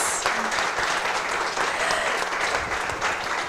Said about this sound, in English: I want to invite everyone to give our experts on the stage a round of